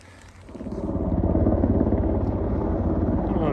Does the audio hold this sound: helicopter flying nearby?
yes